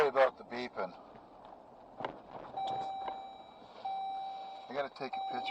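Steady electronic beeping in a car on a delivery drive, sustained tones starting and stopping in repeated stretches while someone talks over them nearby.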